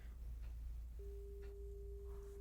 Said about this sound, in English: this is a subtle beep